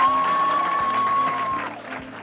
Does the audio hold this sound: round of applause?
yes